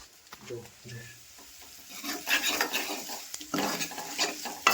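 Hot oil tempering with cumin seeds for matar paneer sizzles loudly as a spoon stirs and scrapes the pan, the frying building up after a quieter start.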